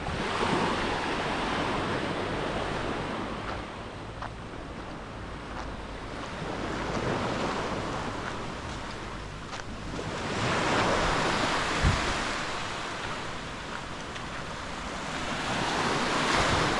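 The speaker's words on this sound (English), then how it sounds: "so this is the beach" Ocean waves wash onto Natien Beach on Koh Samui, Thailand, in a steady broad surf roar that swells and eases, mixed with wind buffeting the microphone.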